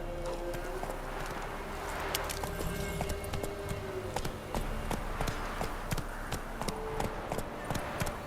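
Horse hooves clip-clopping at a steady run through a video game world, a continuous rhythmic pattern of close, loud beats over an ambient background.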